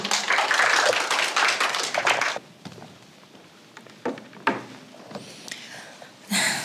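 Loud audience applause at a Korean education ministry briefing session for about two seconds, fading into scattered claps and room noise, then a brief swell of clapping again at the end.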